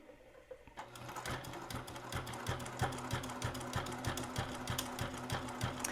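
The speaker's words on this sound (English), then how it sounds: "And when you're sewing, don't watch the needle." A sewing machine stitches fabric for a corner bookmark, starting after a brief quiet moment and then running as a steady, rapid, close mechanical whir of needle strokes.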